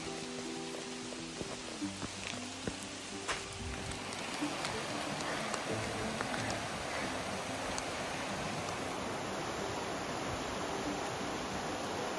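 Rain falling outdoors on the Appalachian Trail near Killington Peak, a steady dense hiss that continues throughout with a person speaking briefly near the start.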